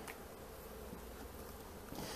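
Honeybees from a gentle, tame colony buzz around a hive frame, a faint, steady, continuous hum with no voices.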